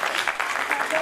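Steady applause from an audience at the 33rd India Meri Jaan award ceremony, a dense, even wash of clapping filling the whole moment without a break.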